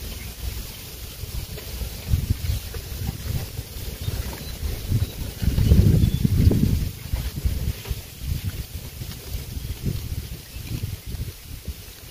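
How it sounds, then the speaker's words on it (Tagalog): Gusty wind buffets the microphone with low rumbling noise, swelling to a stronger gust midway before settling back to a steady blustery roar. "Ang hangin."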